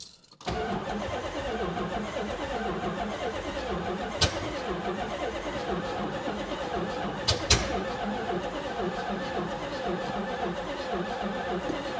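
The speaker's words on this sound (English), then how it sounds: "see if this thing will go ahead and fire up for us" A Dodge Challenger under restoration, fitted with a brand-new battery, starts abruptly and settles into a steady, rough idle that runs without pause, with a few sharp clicks or knocks partway through.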